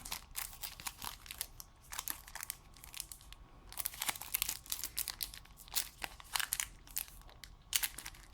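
Foil wrapper of a Pokémon HeartGold SoulSilver trading card booster pack being torn and crinkled open, close and quiet, in irregular bursts of crackling rustle, with no voice.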